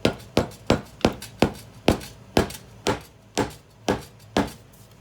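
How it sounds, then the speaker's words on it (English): A small rubber mallet strikes the end of a rear axle on a 2001 Honda 250EX ATV during a bearing replacement, about a dozen sharp, evenly spaced taps, close and fairly loud with no talking. "We're gonna grab a little rubber mallet and tap the end of our axle"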